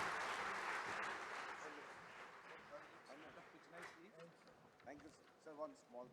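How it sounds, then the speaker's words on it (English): Applause from a conference audience at an accountants' world congress plenary session, a dense wash that is loudest at first and fades over about two seconds before speech takes over. "a big round of applause for Honorable Minister Piyush Goyal ji for coming here today"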